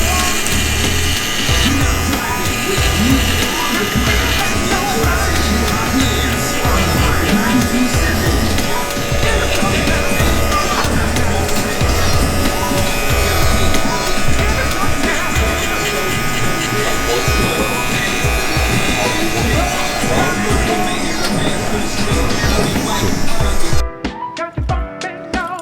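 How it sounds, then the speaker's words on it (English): A BeSPOKE electric trimmer runs with a steady loud buzzing hum for about 24 seconds, then cuts off abruptly near the end. "That was the BeSPOKE trimmer."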